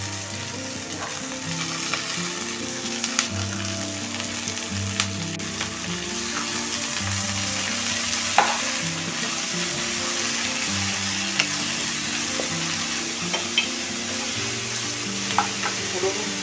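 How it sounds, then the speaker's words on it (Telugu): Chopped banana flower sizzling and frying in a pan, stirred steadily with a spoon, with a continuous crackle and occasional scraping clicks, close and alone for the whole stretch. "ఇప్పుడు మనం ఈ తరుక్కున్న అరటి పూలు వేసుకోవాలి."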